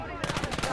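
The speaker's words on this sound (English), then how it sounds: "Gun ready! Ready to fire!" Rapid burst of gunfire in the Gates of Hell war game, a quick run of sharp, loud shots in close succession lasting under a second.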